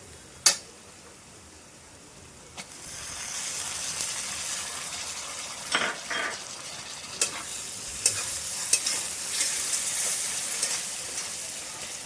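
Onion, garlic and masala paste sautéing in hot oil with tomato, a steady soft sizzle with a few sharp clinks of a spoon against the pan, alone without talk.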